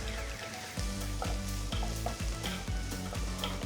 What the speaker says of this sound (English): Saute the onions till they're a nice golden brown color.